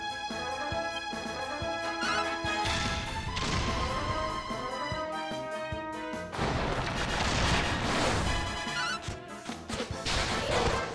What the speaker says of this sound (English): I'll have you cast Kaboom.